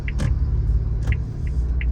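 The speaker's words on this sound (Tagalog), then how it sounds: "So we are driving now the 2025 Suzuki Jimny with automatic transmission." Interior of a 2025 Suzuki Jimny 4x4 with automatic transmission while driving, a steady low engine and road rumble with a few faint high squeaks or rattles.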